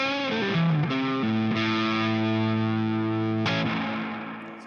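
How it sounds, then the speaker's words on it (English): Electric guitar played through heavy distortion with big reverb and delay effects, sustained chords ringing loud and close, a new strum near the end, then a long echoing tail fading out, with no talk. "So that's some big reverb on there for sure."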